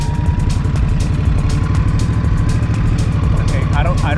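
Indian Scout Bobber motorcycle pulling away slowly in low gears, a steady loud engine rumble with a throbbing pulse, heard close up.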